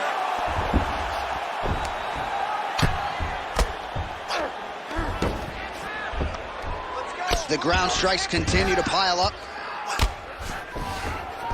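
An arena crowd roars and cheers during a UFC fight on PS5, swelling under steady commentator talk, with sharp thumps of strikes and a burst of excited whoops partway through.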